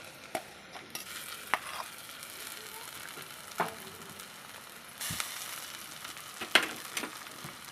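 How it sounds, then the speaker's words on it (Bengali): Shrimp paste goes into onions frying in a pan for a Bengali potato and prawn dish, giving a steady low sizzle with several sharp clinks and stirring scrapes scattered through, no talking. "এখন আমি এই পেঁয়াজের উপর দিয়ে দেবো চিংড়ি মাছ পেস্টটাকে।"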